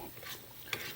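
Garlic and onions cook in a pan with quiet hissing and a light scrape of stirring, plus one small sharp clink from a utensil.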